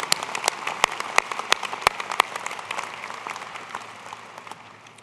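Audience applause at a 2010 University of Idaho winter commencement ceremony, steady clapping with a few sharp close claps in the first seconds, then gradually fading away.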